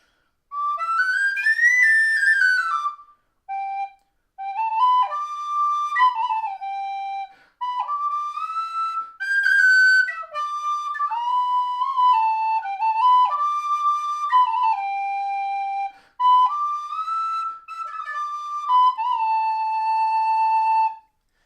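A tin whistle plays the Hobbit tune from Lord of the Rings, a clear, close solo melody of sustained and stepping notes with brief breaths between phrases, entirely alone.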